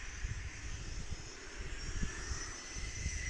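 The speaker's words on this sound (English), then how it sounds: "This looks like a good old Phenom. Embraer Phenom." An Embraer Phenom jet at Palomar Carlsbad airport gives off a steady, moderately distant engine roar with a whining high tone, with no voices over it.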